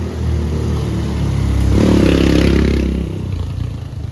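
A motorcycle with a passenger sidecar rides past on a wet street in the Philippines after rain, its engine rising to a loud, close peak mid-way with rattling clatter, then easing off as it moves on.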